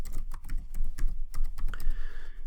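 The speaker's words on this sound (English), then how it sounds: "I can go in here and I can type in my name" A computer keyboard is typed on in quick, uneven bursts of close, crisp key clicks, with no voices.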